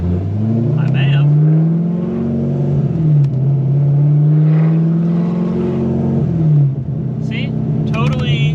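A Chevrolet Corvette C6 Grand Sport drift car with a straight-piped Hooker Blackheart exhaust drives through traffic, its loud, deep engine drone steady close by, dipping briefly as the throttle eases, then settling again.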